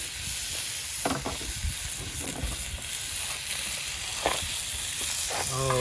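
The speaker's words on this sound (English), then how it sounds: "Oh, don't you just love the sound of bacon?" Bacon frying in a Lodge cast iron skillet, a steady broadband sizzle and crackle with a few brief pops and faint scraping, close and continuous.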